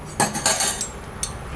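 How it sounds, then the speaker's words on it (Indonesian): A metal spoon clinks against a coffee cup of espresso made from sachet coffee, giving a few quick bright taps in an irregular rhythm, close and fairly loud, with no talking. "Saya ambil sendok"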